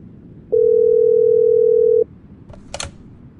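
A telephone dial tone plays on a phone in The Yokai Shop, a horror video game: one loud, steady tone about one and a half seconds long, followed by faint clicks and a brief burst of noise.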